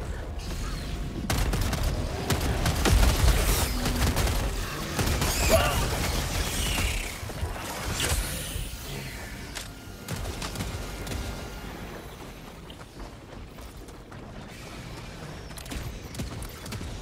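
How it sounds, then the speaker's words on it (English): Sentry turret in Helldivers 2 firing rockets in a dense, continuous barrage of gunfire and booms, loud and layered with mechanical clatter, easing slightly over the last few seconds. "I'll put my sentry over here. because hopefully it will shoot rockets over."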